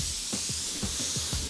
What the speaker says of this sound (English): I'm just doing it on a bit of the masking paper, just to make sure that I've got a nice fan.